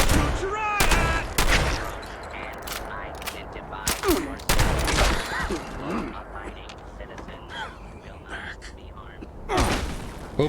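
Gunfire in Fallout 76 at The Pitt: sharp, loud shots in irregular bursts and single cracks, some rapid strings, with a person talking and murmuring between and over the shots.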